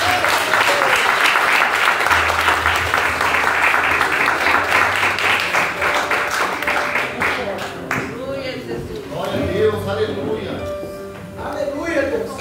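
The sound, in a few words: church congregation clapping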